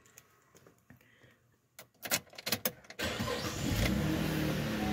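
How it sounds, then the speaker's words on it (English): A 2011 Cadillac CTS engine cranks in a few quick bursts after faint clicks, then catches and settles into a steady, loud idle. "Start the engine."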